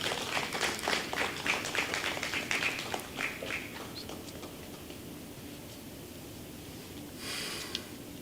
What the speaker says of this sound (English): Please, with a round of applause, let us welcome Mr.